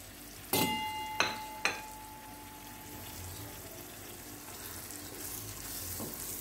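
Green chillies (tota mirch) hiss and sizzle in a hot pan, with a few sharp clanks of a spoon at the start, then a steady frying crackle that carries on alone.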